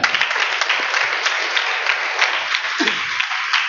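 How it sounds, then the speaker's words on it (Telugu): Steady, dense applause from a crowd, many hands clapping continuously at close range for the whole stretch without a break. "క్లాప్స్ కొట్టాలి గట్టిగా"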